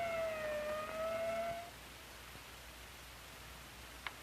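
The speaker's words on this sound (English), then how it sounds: "the ambulance brings in the victim of an accident" Ambulance siren wailing as it brings in an accident victim, a faint, fairly distant tone that fades out after about a second and a half, leaving quiet hiss and a single small click.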